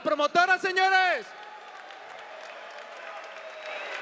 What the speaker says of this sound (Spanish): Un aplauso fuerte para la promotora, señores